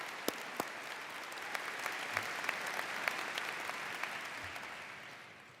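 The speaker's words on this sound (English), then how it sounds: "can I just please get a round of applause for these two great newest officers?" Applause at a college commencement welcoming two newest officers, a steady wash of clapping from a sizable crowd heard at a distance, with a few sharper claps standing out and no talking over it.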